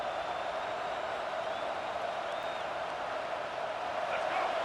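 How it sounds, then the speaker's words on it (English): A packed football stadium crowd roars during a college game, a dense, steady wall of noise that holds at an even level throughout without a break. "Listen to this crowd just shaking the girders of this place, trying to help their defense."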